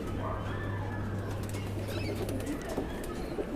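Pigeons of the Kalpare Madrasi breed coo softly in a loft, with a brief flutter of wings and a steady background hum, the calls low and close throughout.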